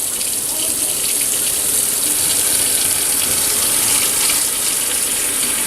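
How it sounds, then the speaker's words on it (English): Lukewarm tap water pours steadily into a basin being refilled for washing a wool cloth diaper. The gush is close and continuous, with no voices. "And you're going to fill this again with lukewarm water."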